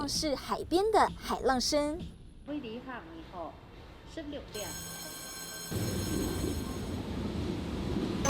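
Busy ambience at Hsinchu railway station, Taiwan: voices and bright tonal chimes at first, then a steady rumbling wash of noise with faint ringing tones.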